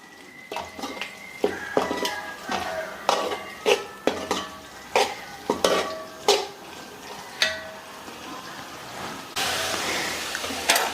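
Chicken being tossed in masala in a metal pan, with a rapid series of sharp scraping and clanking strikes of a utensil against cookware at an irregular rhythm, recorded up close with no talk.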